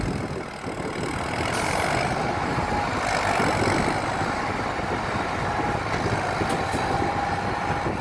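A backhoe's diesel engine runs hard and steady as it pulls a chained vehicle free outdoors. The continuous heavy rumble holds at a fairly even level for several seconds, with no talking.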